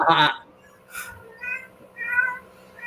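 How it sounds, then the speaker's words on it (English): A cat howls in short, repeated cries, four yowls spaced roughly half a second apart, close and fairly loud. "you can hear my cat howling over here"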